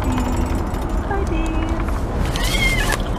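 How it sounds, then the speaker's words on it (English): A cat crying from inside a carrier crate, drawn-out meows rising over loud background noise while people talk nearby. "Oh, yep, that's Stripey crying"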